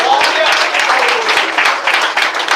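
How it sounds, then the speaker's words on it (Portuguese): A church congregation clapping hands together during a sermon, loud, close and sustained clapping with an uneven rhythm, a few voices calling out faintly underneath. "Vem, bate palmas."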